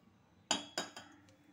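A pressure cooker set down on a stove while pav bhaji is being cooked gives two sharp metallic clinks close by, followed by a fainter third knock and a light tap.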